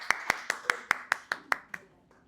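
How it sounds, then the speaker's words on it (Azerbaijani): About nine crisp, evenly spaced hand claps are heard at a sales gathering, loud and close with a slight room echo, then they stop. "Bu arada istəyirəm özünüzü bir alqışlayasınız"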